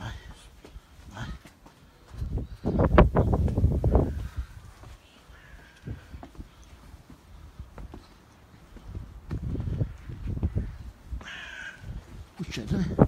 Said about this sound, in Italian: Uccello, eh?